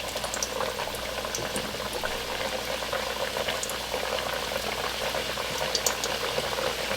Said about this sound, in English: The oil's hot, add the potatoes in, and cook about 4 to 5 minutes until they are tender.